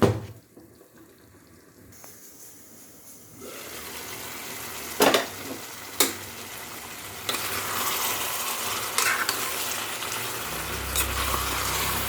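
Mutton and potato curry being stirred in a pan, heard as a soft scraping and bubbling wash with a few sharp utensil knocks against the pan; it starts quiet and grows steadier, with no talking.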